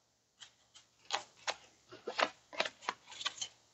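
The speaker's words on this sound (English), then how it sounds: "and I'm going to shuffle them in." Playing cards for the Terminator Dark Fate card game are shuffled in a quiet room, a run of about a dozen crisp riffling snaps at an uneven rhythm, close and alone.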